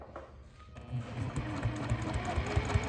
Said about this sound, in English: watch how it curls as I'm sewing